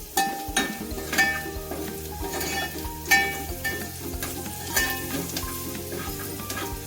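Steady sizzling of a hot-oil tempering for radish curry on a high gas flame, with sharp clinks of a spoon stirring the pan at irregular intervals and a faint tonal hum underneath.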